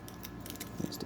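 Keys on a Sugarloaf Crane key ring jingle faintly in a few light, quick metallic clinks as a claw machine is opened in a quiet room.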